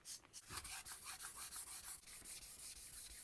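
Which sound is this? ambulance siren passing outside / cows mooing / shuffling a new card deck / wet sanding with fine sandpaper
wet sanding with fine sandpaper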